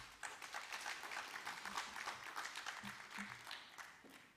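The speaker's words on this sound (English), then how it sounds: "Can we give her a round of applause?" Audience applause at a privacy symposium in Africa, a steady patter of many hands clapping at moderate distance, fairly faint and continuous, with a few scattered voices underneath.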